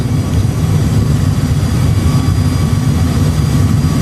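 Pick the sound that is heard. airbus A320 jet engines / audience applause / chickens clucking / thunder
airbus A320 jet engines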